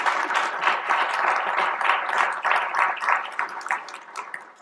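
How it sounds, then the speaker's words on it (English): Sustained audience applause at a nursing college mentoring network meeting, dense overlapping claps from a sizable crowd rolling steadily and fairly close for several seconds with no talking. "So I think a round of applause for that."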